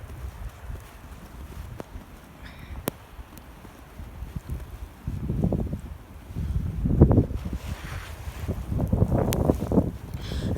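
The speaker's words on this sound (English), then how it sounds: "Wow, it's windy out here." Wind gusts during a Detroit blizzard buffet the microphone, a rumbling, rising roar that swells in uneven waves, strongest in the second half.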